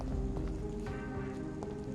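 Steady rain patters in the video game Vampyr, a faint, continuous hiss of falling drops under a sustained musical drone, with no voices.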